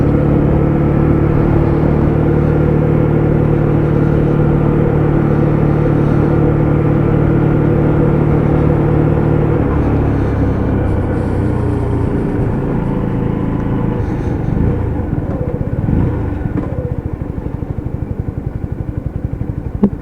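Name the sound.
Lexmoto ZSB motorcycle engine ticking over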